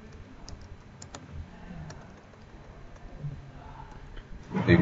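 Soft, quick clicking of keys on a computer keyboard in a quiet room, faint and fairly steady, ending in a louder thump.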